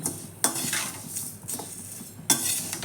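Whole spices roast dry in a pan over a low flame, with a few sharp metallic scrapes and clinks of a spatula against the pan over a quiet, faint background.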